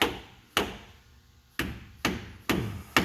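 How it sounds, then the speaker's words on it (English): A hammer filled with lead beads strikes a surface in five heavy, spaced blows, each a sharp impact followed by a dull ringing decay, close and loud. "The hammer. It's got lead beads in it."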